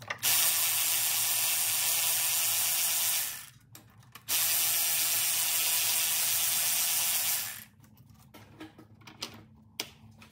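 Ratchet spinning out bolts on a 6.7 Powerstroke fuel injection pump (DCR pump) on a 2022 truck, two long continuous bursts of loud rapid clicking separated by a pause, followed by scattered small handling clatter.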